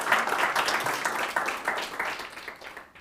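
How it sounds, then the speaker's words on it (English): Warm applause from a conference audience at an academic keynote on the ethnography of Iran, continuous clapping from many hands throughout, slowly thinning and fading toward the end. "Please give Professor Beeman a warm round of applause."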